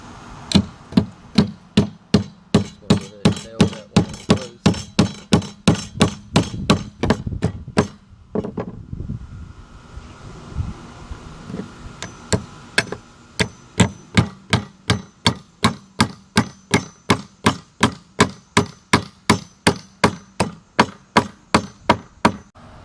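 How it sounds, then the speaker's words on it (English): A hammer drives nails into 2x4 boards for a farmhouse bench: sharp, loud, close wooden strikes in a steady, even rhythm, pausing briefly midway before resuming at a similar pace. "That way it'll hold sturdy while we're driving our nails."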